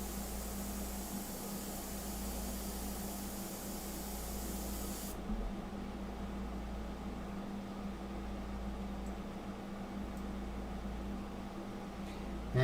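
An airbrush sprays India ink onto a fine art portrait on paper, giving a steady soft hiss over a constant low hum of the compressor, quieter after the first few seconds.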